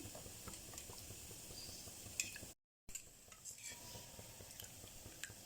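Homemade millet flour batter for kali being stirred and mixed to avoid lumps, giving a soft, continuous scraping and swishing close by, broken by a brief moment of silence.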